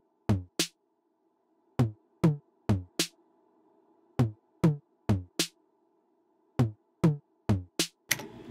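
Sparse toms and snare hits in a programmed beat, dry punchy strikes in small irregular clusters separated by silence, with a faint sustained tone humming underneath.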